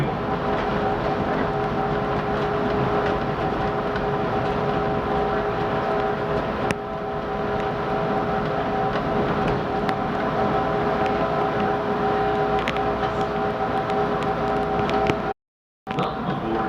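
Chicago elevated L Brown Line train running toward Kimball near Belmont and Southport, a steady close rumble of wheels and motors with a faint constant tone, broken by a brief silence near the end.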